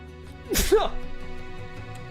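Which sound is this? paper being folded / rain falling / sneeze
sneeze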